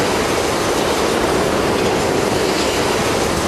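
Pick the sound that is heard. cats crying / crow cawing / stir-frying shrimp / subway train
subway train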